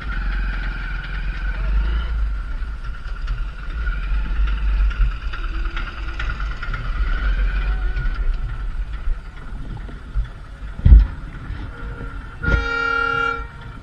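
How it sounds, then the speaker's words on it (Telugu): A low, steady rumble of a train rolling past a railway crossing with the gate down, ending with a loud, sustained horn blast near the close. "ట్రైన్"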